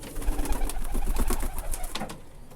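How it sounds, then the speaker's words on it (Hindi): Silver pigeon cooing close by in a series of soft throaty pulses, steady and continuous with no talk. "बहुत ही बेहतरीन ओरिजिनल जो है सिल्वर कबूतर है"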